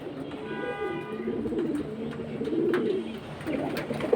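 Pigeons coo repeatedly at close range, soft rolling throaty calls with a low hum behind them, from a pair of Khaki pigeons offered at a bird market.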